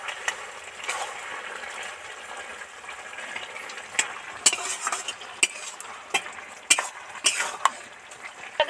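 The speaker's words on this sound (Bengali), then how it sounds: "দিয়ে এবার ভালো করে নেড়ে চেড়ে মিশিয়ে দেবো" A spinach and bori curry is stirred and mixed in a pan, with sharp scraping clicks of a spatula against the metal building up over a faint steady sizzle, close and alone.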